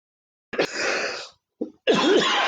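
A single person's throat clearing, close and fairly loud: a harsh burst, a short catch, then a longer rasping clear, with silence around it.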